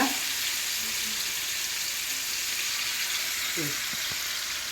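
Fish pieces frying in a pan for biryani, a constant hissing sizzle close up with a few faint knocks and shuffles near the end.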